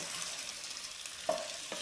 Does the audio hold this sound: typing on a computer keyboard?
no